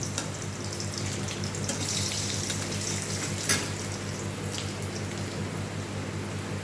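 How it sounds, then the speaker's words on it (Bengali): Eggs frying in a pan of oil for egg curry, giving a steady, soft, hissing sizzle with one brief louder spatter midway and no talking. "এবার ডিমটাকেও ভেজে নেব"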